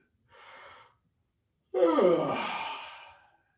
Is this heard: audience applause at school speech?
no